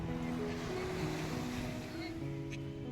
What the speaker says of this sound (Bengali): সাংঘাতিক ঢেউ